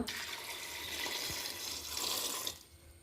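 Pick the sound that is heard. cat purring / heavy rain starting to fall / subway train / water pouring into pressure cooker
water pouring into pressure cooker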